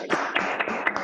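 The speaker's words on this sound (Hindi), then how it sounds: "मैं चाहूंगा कि उनके लिए भी एक बार जोरदार तालियां बजाएं" A small audience claps for a guru in a short burst of applause, with a handful of distinct close claps rather than a dense crowd roar.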